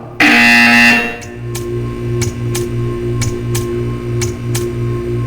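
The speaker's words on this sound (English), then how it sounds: "You will hear a buzzer." A loud test-chamber buzzer in the video game Portal 2 opens with a strong tone, then pulses in a steady series of short buzzes over a low electrical hum, with no talking.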